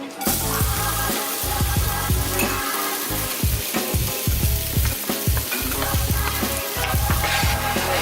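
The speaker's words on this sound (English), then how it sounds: "I'm gonna go ahead and saute those." Fire-roasted vegetables with jalapeños, peppers and mushrooms sautéing in a hot pan, a loud continuous sizzle broken by repeated scraping stirs and clinks of a utensil.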